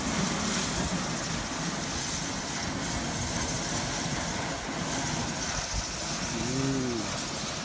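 A wind turbine roars through the hurricane winds of Hurricane Maria, with a dense, steady rumble of buffeting gusts and wind noise on the microphone throughout.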